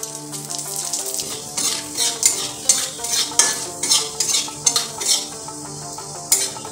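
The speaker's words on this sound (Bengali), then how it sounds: "আমরা গরম তেলের মধ্যে দিয়ে দেবো শুকনো লঙ্কা," Dried chilli, radhuni and cumin seeds crackling in hot oil in a pan, a dense sizzle broken by repeated bursts of spluttering and spoon scrapes, close and fairly loud.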